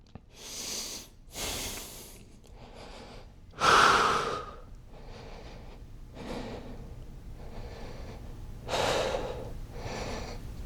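Slow, deliberate breaths while holding yoga triangle pose, about eight audible inhales and exhales spaced a second or so apart, close up and breathy, one sharper intake standing out.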